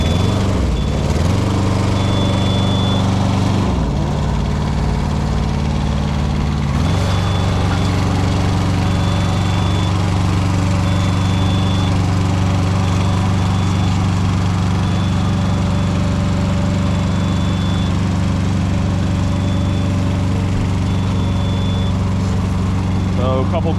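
A CMC 72HD Arbor Pro compact tracked spider lift's engine runs steadily throughout, a continuous mid-low drone with a brief shift in load early on, with a faint high whine above it.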